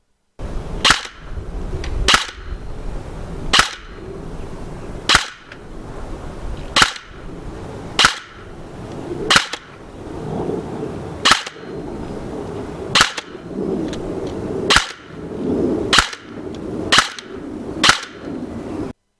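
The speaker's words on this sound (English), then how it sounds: "let's take it to the chrono and see what it's firing out of the box" An ICS CXP15K airsoft gun fires .20 gram BBs through a chronograph: about a dozen sharp, crisp single shots, evenly spaced roughly every one and a half seconds, with quiet mechanical handling between them and no talking.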